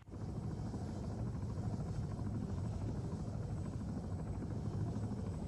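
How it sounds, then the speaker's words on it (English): A military helicopter flies in Arma 3, a steady, dense rotor thump and engine roar that holds at even loudness throughout with no speech. "I fucking hate this helicopter."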